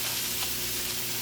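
Onions, sweet peppers and scallions sizzling in a pot, a steady dense frying hiss that stays loud and close throughout, with no talking.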